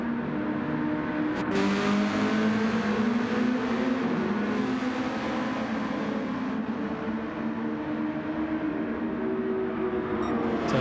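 Race cars accelerating down the straight at Fuji Speedway, a continuous loud engine drone with shifting harmonic pitch as several cars run close together in a slipstream, steady throughout.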